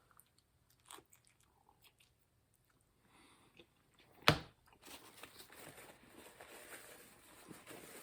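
A bite into Little Caesars Slices-N-Stix pizza, one sharp close crunch followed by soft, quiet chewing.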